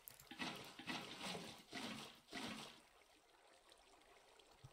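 Water being placed into stair blocks in Minecraft, quiet rushing and trickling bursts, about four in a row, then a fading low flow.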